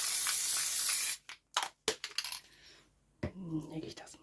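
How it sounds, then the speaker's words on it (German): Spray adhesive hisses from a can in one long, steady burst for about a second while making a paper card, followed by a few short rustles and handling noises nearby. "Und dann würde ich hier jetzt sogar auch Sprühkleber nehmen."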